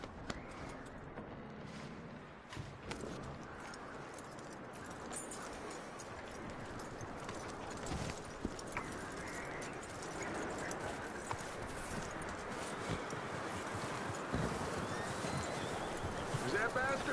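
Horse hooves clip-clopping in the video game Red Dead Redemption II, a steady ongoing patter at moderate distance under a continuous bed of ambient noise, with talk heard during the clip.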